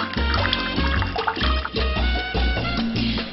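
Water pours steadily from a tap into a pot for boiling, about 1.5 liters for ABC soup, a continuous gushing, splashing stream with no voices.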